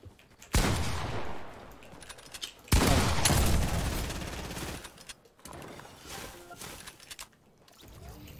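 Gunfire rings out in a pump shotgun and flint-knock pistol shooter game, with two loud sharp blasts followed by decaying, rattling tails and softer scattered shots, under no clear speech.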